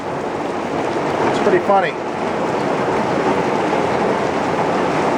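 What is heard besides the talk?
heavy rain pouring on RV camper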